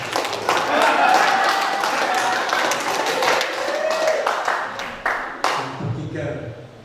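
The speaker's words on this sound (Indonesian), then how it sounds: "Tepuk tangan untuk saya." Audience clapping at an Indonesian comedy sarasehan (discussion forum), a dense burst of handclaps that thins out over several seconds, with voices talking over it.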